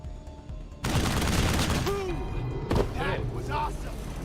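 Heavy automatic gunfire in the video game Wasteland 3 bursts in loudly after a quieter start, a dense barrage with booming impacts, and a person talks over parts of it.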